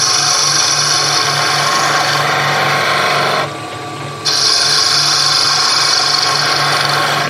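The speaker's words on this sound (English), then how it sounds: "So let's come here and do a little planing cut." A skew chisel makes a planing cut on a spinning wood lathe, a loud, steady hissing shear over the hum of the motor. It eases off briefly in the middle, then resumes at full strength, with no talking.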